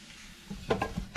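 Flour stirred in a pot on the stove for cheese puffs, a soft scraping and light sizzle with a few sharper spoon knocks near the end, close and fairly quiet.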